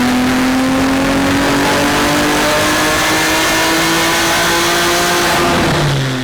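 A 1,000 horsepower BMW G80 M3 running E85 on a dyno, its engine revving hard and steadily climbing in pitch through a loud sustained pull, then easing off at the end.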